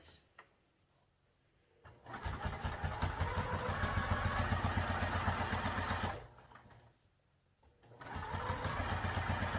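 A sewing machine stitches a seam on a crossbody bag in two bursts of rapid, even needle clatter, one long and one shorter after a pause, close and clear with no talking.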